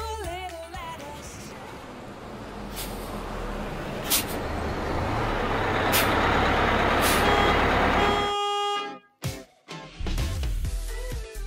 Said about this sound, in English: Oh no, you guys, the bus is here.